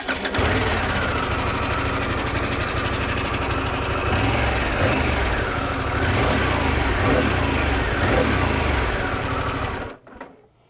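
A Harley-Davidson Pan America 1250 Special motorcycle engine revs steadily up close, a loud, continuous mechanical roar with a throbbing low pulse held for about ten seconds before it cuts off abruptly.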